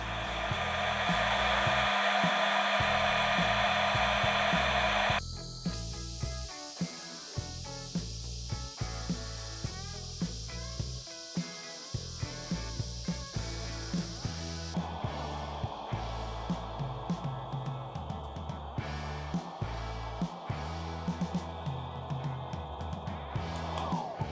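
Steady loud blowing hiss of a cordless Procraft PH20 heat gun set to 170 degrees, heating plastic pipe, running continuously, with shifts in tone as it is moved around.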